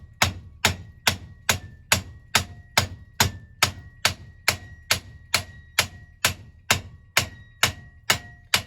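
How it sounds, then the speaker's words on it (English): A big ball peen hammer rivets over the tenon of a metal mortise and tenon joint, nearly twenty sharp ringing blows in a steady even rhythm, close and loud with no talk. "start riveting with a big ball peen hammer"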